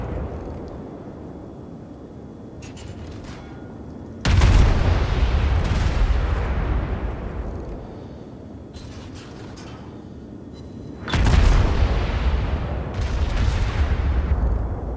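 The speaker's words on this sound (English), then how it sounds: "I was gonna fire high explosive at him." Heavy naval guns of a warship firing high-explosive shells during a World of Warships battle, two loud booming salvos several seconds apart, each rolling and rumbling as it decays over a low background hum.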